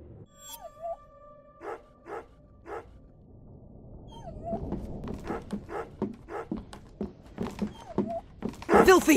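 A dog barks and whimpers in the horror video game Remothered: Broken Porcelain, with short yelps scattered through low rumbling game ambience, building toward a louder burst at the end.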